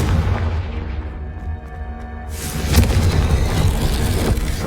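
Confringo explosive spell fired in Hogwarts Legacy, a loud close boom bursting out partway through over a dense, rumbling game background.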